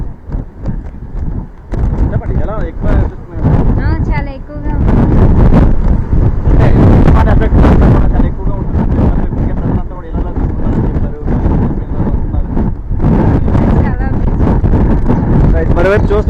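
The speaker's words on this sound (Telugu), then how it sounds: "తీవ్ర తుఫాన్ అంతా కూడా ఇప్పుడు ఈ గాలి తీవ్రత అంతా కూడా చాలా ఎక్కువగా ఉంది" Strong cyclone wind buffets the microphone at a coastal beach during heavy rain, a loud, roaring, gusty rush that swells and dips throughout, with a reporter talking over it.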